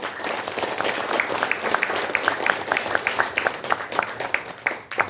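Warm applause from an audience at a committee launch ceremony, steady overlapping clapping at moderate volume with a few rhythmic nearby claps, tapering slightly at the end.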